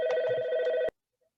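A telephone rings loudly with a steady electronic tone for just under a second, then cuts off abruptly into silence.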